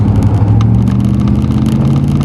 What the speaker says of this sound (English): Car coming down, small little GMC.